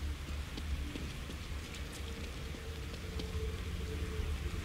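Steady rain falls in the horror video game The Evil Within, a constant hiss with scattered drop patter and a low rumble underneath, alone with no talking.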